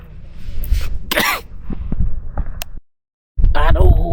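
Several harsh coughs in quick bursts close to the microphone on a sandy mountain trail, with breathy noise between them, a brief silent gap, then more rough coughing.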